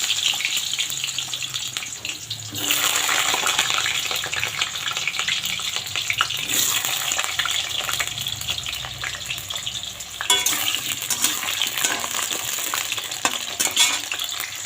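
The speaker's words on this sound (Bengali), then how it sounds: "কড়াইতে তেল দিয়ে দিয়েছি, গরম হয়ে গেছে, এখন আলুগুলো" Potatoes fry in hot oil in a wok, giving a loud, dense, continuous sizzle with bursts of crackling as they are stirred, close by.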